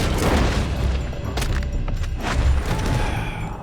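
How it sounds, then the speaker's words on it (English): Gunfire from a shootout around a building in Red Dead Redemption 2, a dense, continuous barrage of booming shots and thuds at close range, loud and steady throughout with no talking. "They're shooting from that building. They're shooting from everywhere, Dutch."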